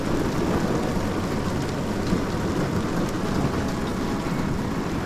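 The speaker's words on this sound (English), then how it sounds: "Another day, another storm" Heavy, steady thunderstorm rain pours down at a campsite in Bolivia, Northern New South Wales, with a dense wash of noise, low rumbling beneath it throughout; no voices.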